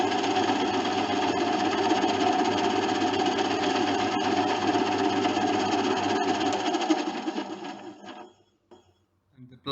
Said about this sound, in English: So we'll switch the motor on.